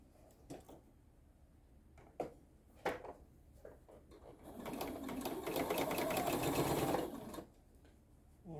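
Sewing machine stitching a crazy quilt block, starting with a few short bursts and soft handling clicks, then running steadily and close for about two and a half seconds before stopping.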